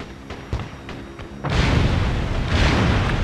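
A vehicle blows up in Ace Combat: Assault Horizon during an AC-130 gunship mission, a few muffled thumps giving way to a sudden loud explosive roar that rumbles on steadily to the end.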